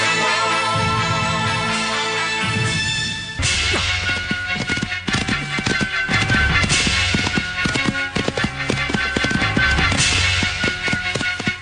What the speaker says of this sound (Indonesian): Itu kuda mereka.